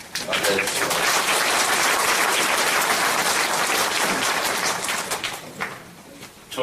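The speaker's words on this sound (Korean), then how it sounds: "다시 한번 큰 박수로 맞이해 주시기 바랍니다." Sustained applause from a crowd at a redevelopment association's general meeting, loud and steady for several seconds before tapering off near the end.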